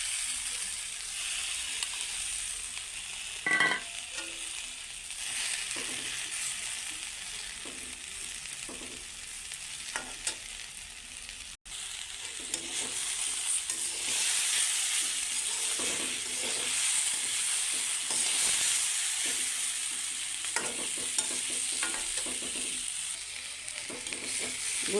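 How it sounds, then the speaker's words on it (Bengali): Small fish lightly frying in a pan for a village-style Bengali curry, a quiet steady sizzle with intermittent stirring scrapes and clinks of the spatula, no talking. "গুঁড়া মাছগুলো হালকা ভাজা হয়ে গেছে"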